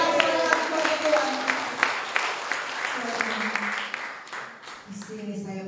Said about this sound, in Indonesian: Berikan sorak-sorai kepada Tuhan.